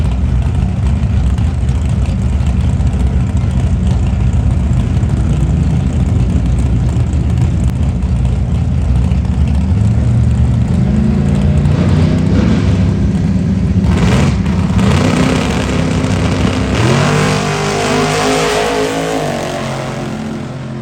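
A Camaro and a Silverado truck race at Truck Fest, Xtreme Raceway Park, with loud continuous engine roar and rising revs sweeping past up close over about twenty seconds, no talking.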